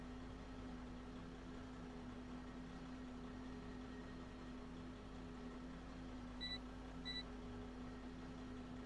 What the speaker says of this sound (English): it's beeping like the GPS is on